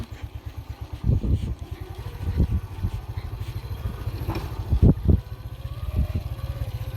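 A motorcycle slips while climbing a steep, muddy forest trail in rural Guatemala, its engine chugging steadily up close with several sharp revving surges.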